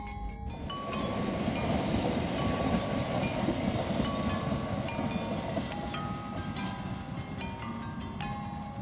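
The Malabar passenger train, running with older non-stainless carriages, rolls past in a dense, steady rumble with faint metallic squeals and rattles, loud and continuous throughout with wind buffeting the microphone.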